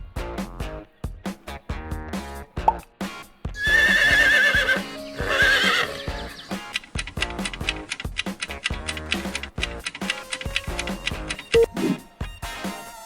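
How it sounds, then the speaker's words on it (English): Horse neighing, a loud, close whinny rising and trailing off in the middle, set among clip-clop hoof beats and a steady ticking rhythmic backing track. "Horse."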